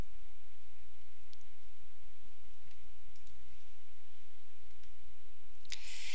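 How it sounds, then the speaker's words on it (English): Computer mouse clicks while selecting an item in software, a few faint sharp ticks spread irregularly over a steady noisy room hum, with a brief louder rustle near the end. "We'll select the observation by clicking on it."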